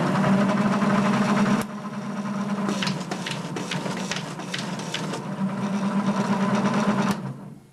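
A Dynafold DE8 paper folding machine refolds an already folded sheet, its motor humming loud and close with a burst of rapid clattering feed and fold clicks midway before the run winds down.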